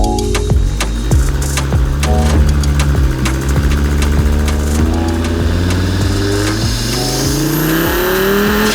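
An Audi RS3 five-cylinder engine swapped into a VW Tiguan revs hard again and again. The blips are loud and close, the pitch climbs and falls with each throttle stab, and sharp crackles come through between them.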